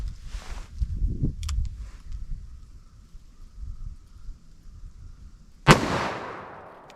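A single sharp revolver shot from a .38/44 load with Alliant 2400 powder cracks outdoors near the end, preceded by faint rustling and footsteps and followed by a rolling echo.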